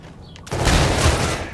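Sniper rifle fire in the shooter game Infinite Warfare, a sudden loud blast that gives way to a sustained roaring rumble of gunfire, close and dense.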